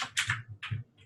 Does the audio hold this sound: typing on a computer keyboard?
yes